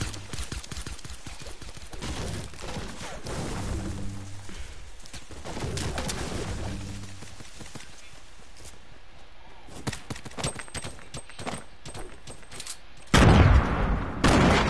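Rapid bursts of gunfire from a PS4 shooter video game crackle through the whole stretch, volleys rising and falling, with a sudden loud blast near the end.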